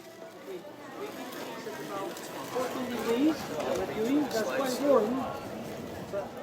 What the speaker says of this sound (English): this is the sound of the market busyness